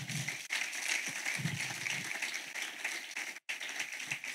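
A church congregation applauds together, a dense, steady wash of clapping that fills the room and runs almost without pause, with only one brief break near the end.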